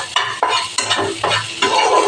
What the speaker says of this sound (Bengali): চাউমিনের মধ্যে পেঁয়াজটা লাল লাল করে না ভাজলে ভালো হয় না